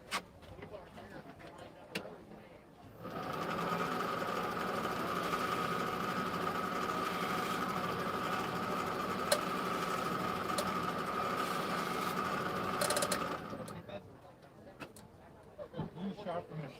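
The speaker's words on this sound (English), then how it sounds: "So I'm just gonna lightly hit it on the strop," A machete blade lightly worked on a leather strop at an outdoor farmers market stall, a steady hum running for about ten seconds amid surrounding market noise, with voices talking before and after.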